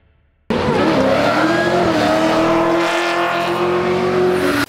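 A Nissan Silvia S15 with a 750-horsepower V8 LS3 spins drifting donuts, bursting in abruptly with a loud, sustained engine roar and continuous tire squeal that holds steady for about four seconds before cutting off.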